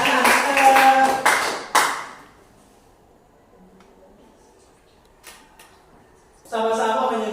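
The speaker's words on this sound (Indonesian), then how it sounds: "kita aplaus semua" Students in a classroom applaud together in a short burst of clapping at the start, then the room falls mostly quiet. A brief knock follows, and near the end a voice speaks up and carries on.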